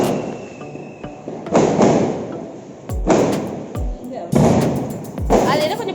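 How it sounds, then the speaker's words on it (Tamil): Diwali firecrackers burst close by in a few sharp loud bangs with crackling debris and echoing thumps, separated by short pauses, while people talk and react in between. "அது என்ன கொஞ்சம் பொறுமையா தான் வெடிக்குது"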